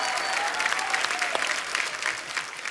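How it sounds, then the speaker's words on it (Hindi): A studio audience on The Kapil Sharma Show, an Indian TV comedy show, breaks into loud, sustained applause, dense and continuous for a few seconds with no speech over it. "इन तीनों फनकारों के लिए जोरदार तालियां"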